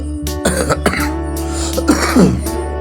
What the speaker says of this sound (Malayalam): തണുപ്പൊക്കെ ആയതുകൊണ്ട് നല്ല ചുമയൊക്കെ ഉണ്ട് കേട്ടോ